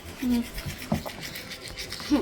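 Toothbrush scrubbing teeth in bursts while camping in a tent, close and soft, with voices and laughter around it.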